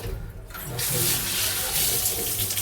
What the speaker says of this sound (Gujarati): જોવું પડશે કે પાણી ગરમ આવે છે કે ઠંડુ આવે છે